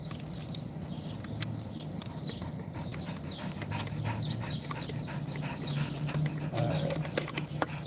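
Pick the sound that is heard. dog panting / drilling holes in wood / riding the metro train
dog panting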